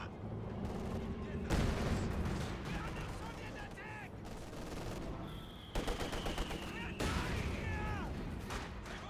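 Dense Company of Heroes 2 battle: repeated gunfire bursts and heavy mortar and artillery explosions, including a Su-85 tank and MG42 machine gun fire, with loud booms at intervals over constant combat noise and a voice speaking.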